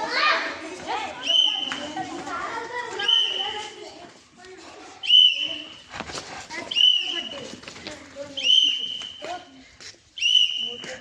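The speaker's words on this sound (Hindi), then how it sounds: "मैं सीटी बजा दूंगा।" A PT teacher blows a sharp whistle in repeated short blasts at a steady pace during school physical-training drills, loud over the constant chatter and shouting of children playing nearby.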